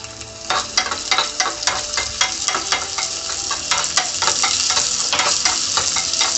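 Cashews and raisins fry in ghee for carrot halwa, a close, steady sizzle broken by repeated crackling pops and stirring scrapes, with no voices.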